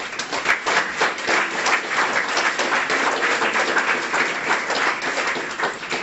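Audience at a guide dog school graduation ceremony gives a warm round of applause, a loud, sustained crowd of hands clapping steadily throughout.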